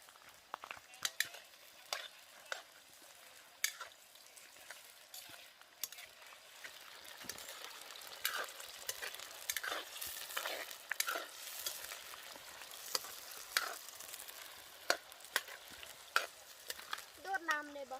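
Food frying in oil in a small pan outdoors, a soft continuous sizzle scattered with pops and crackles, fairly faint and close, with no talk over it.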